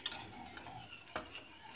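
A spoon stirs orange cream in a saucepan on the stove, making faint, irregular scraping and light clinks against the metal pan close by, with no one talking.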